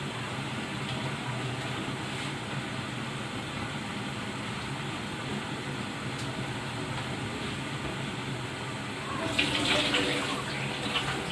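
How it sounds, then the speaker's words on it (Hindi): Water being poured off soaked rice in a home kitchen for biryani, a steady rushing trickle like a running tap, growing louder and splashier near the end. "चावलों के अंदर जो पानी है इसको फिल्टर कर लेते हैं।"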